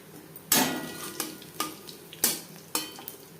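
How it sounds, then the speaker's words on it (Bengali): Half a spoon of panch phoron seeds frying in hot oil, with a constant sizzle punctuated by five or six stirring scrapes and clacks of a utensil against the pan, close and moderately loud. "কুড়ি পঁচিশ সেকেন্ড পাঁচফোড়ন ভেজে নেওয়ার পর"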